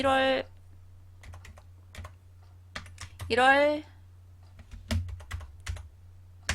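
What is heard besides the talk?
typing on computer keyboard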